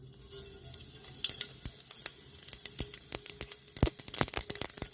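Mustard seeds crackle and pop in hot oil for a spicy bitter gourd curry, with sharp irregular snaps over a low sizzle that quicken toward the end.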